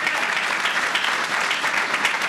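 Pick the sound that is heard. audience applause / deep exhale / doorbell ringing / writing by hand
audience applause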